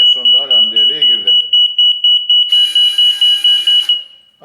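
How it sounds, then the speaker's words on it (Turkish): A PLC conveyor timeout alarm beeps in a rapid, steady pulsing rhythm, loud and close, running under a man's speech at first and then alongside a brief burst of higher buzzing before it stops. "5 saniye sonra alarm devreye girdi."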